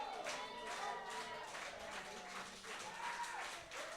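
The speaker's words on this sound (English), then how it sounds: "The crowd's on fire for it." A wrestling crowd at a live independent show cheers and applauds steadily, a broad wash of claps and shouts filling the hall throughout.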